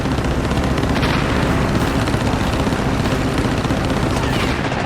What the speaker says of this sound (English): From 200 feet away, the Japanese plane fires.